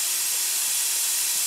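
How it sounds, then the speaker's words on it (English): Continuous loud hiss of steam venting steadily from a pressure canner spout while canning garden parsnips, close and unbroken throughout. "this is now a steady stream of steam"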